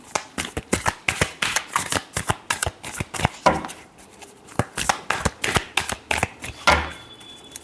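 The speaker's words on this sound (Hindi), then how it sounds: "last shuffle" Tarot cards are shuffled by hand in a rapid run of crisp riffling bursts, close and distinct, with a short pause near the middle before the shuffling resumes, and no one speaking.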